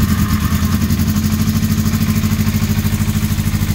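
An old Honda 400/4 four-cylinder motorcycle engine, choke on, running after starting, with a steady, even idle burble and mechanical clatter that stays loud and constant throughout, no voices.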